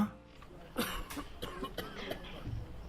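A man coughs several times in short, harsh bursts, close and fairly loud, with brief pauses and throat-clearing between coughs against a quiet room background.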